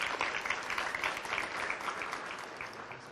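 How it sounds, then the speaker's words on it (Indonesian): A brief round of audience applause for a competing team at a school quiz contest, many hands clapping in a lively, slightly uneven patter that fades gently, with no talking over it. "Tepuk tangan untuk Regu B."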